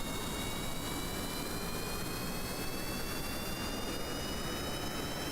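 Rocket engines at full throttle during a launch in Kerbal Space Program roar as a loud, dense, unbroken wash of noise with a thin rising whine, steady throughout and with no talking.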